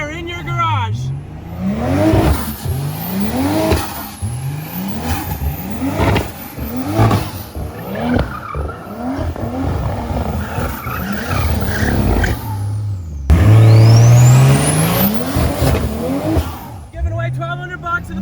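A car doing a burnout in a home driveway or garage, with repeated engine revs rising and falling, screeching tire squeal and a loud sustained rev near the end, all mixed with energetic talk.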